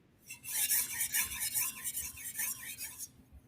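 Knife blade sharpened on a 1000 grit whetstone: a steady series of close, wet rasping strokes in even back-and-forth rhythm, heard alone for about three seconds.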